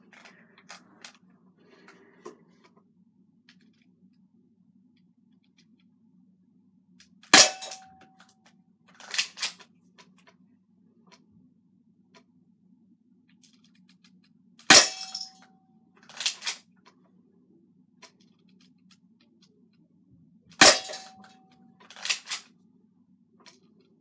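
Crosman Stinger P311 spring-powered airsoft pistol firing BBs at a target, three sharp loud snaps spaced several seconds apart, each followed by clattering clicks as the slide is pulled back to prime the next shot.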